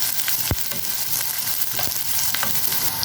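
Chopped onions and green chillies sizzle and crackle steadily in hot oil in a pan for a Tamil mutton liver thokku, with a few louder stirring scrapes over the continuous frying hiss.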